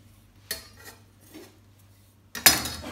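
Garlic marinade being mixed in a dish, a few separate clinks and scrapes of a utensil against the dish, with a louder clatter near the end over quiet room tone.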